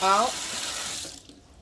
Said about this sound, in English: Open the water.